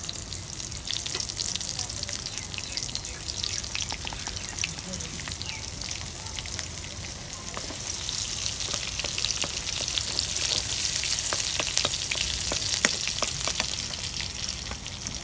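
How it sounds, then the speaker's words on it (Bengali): Garlic frying in hot oil in a home kitchen while cooking wild greens, giving a steady, continuous sizzle and crackle from start to finish, with faint clatter mixed in. "তেলের মধ্যে দেওয়াতে নাল নাল হয়েছে"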